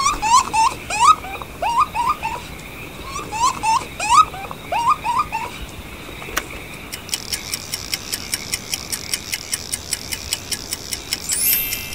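A beaver makes a run of rapid, squeaky whining chirps in quick clusters, close and fairly loud, before giving way to an even, repeated ticking.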